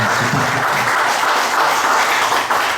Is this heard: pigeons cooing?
no